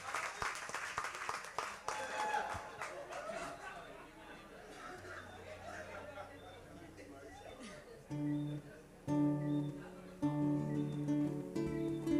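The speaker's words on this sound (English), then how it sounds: "Give him a round of applause first," Applause at a retirement function, with a lively patter of claps and chatter for the first few seconds that thins out and gives way to sustained musical notes from a performance starting up.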